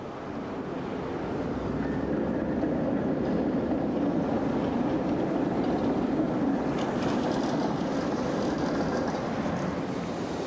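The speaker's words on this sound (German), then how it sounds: "An der Oberfläche rollt die Straßenbahn." A tram rolls along a Berlin street above an underground station at Rosenthaler Platz, a steady, fairly loud rumble that builds over the first two seconds and then holds evenly, with no voices.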